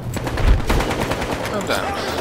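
Battle rifle gunfire in the video game Battlefield Hardline, a dense burst of rapid shots with other battle noise mixed in, loud and close throughout the short stretch.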